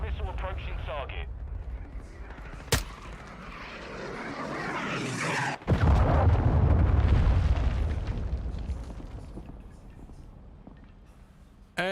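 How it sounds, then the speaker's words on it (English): A cruise missile strike in Call of Duty MW2: a jet-like roar builds, then a heavy explosion bursts and rumbles down over several seconds, under players talking. "Friendly cruise missile approaching target"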